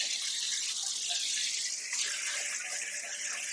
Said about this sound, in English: I'm going to rinse the noodles in some cold water.